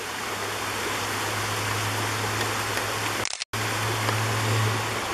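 Steady rushing of flowing creek water in Lakemont, Georgia fills the clip, with a low hum beneath and a brief dropout near the end.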